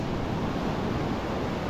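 Close, steady roar of large ocean waves splashing and washing, with wind rumbling over the microphone throughout.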